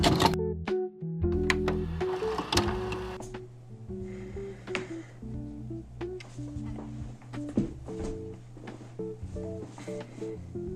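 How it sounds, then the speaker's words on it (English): A home printer runs after weeks of disuse, with an uneven sequence of mechanical whirs, clicks and rhythmic feed-motor pulses that start and stop in close, fairly quiet bursts. "I literally just used my printer after a 3 weeks hiatus."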